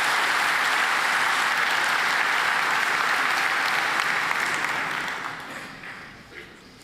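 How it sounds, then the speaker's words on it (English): A conference audience at Laracon EU Amsterdam applauds a speaker with dense, sustained clapping that stays loud and even, then tapers off near the end. "Please applause for Miki"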